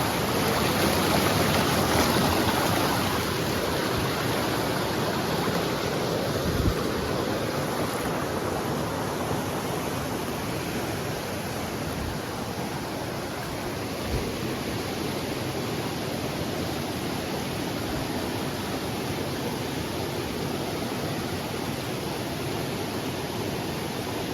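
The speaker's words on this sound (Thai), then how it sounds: "น้ำไหลแรงมาก" Strong stream of water rushing steadily over slippery rocks outdoors, a loud, continuous roar filling the whole stretch with no voices.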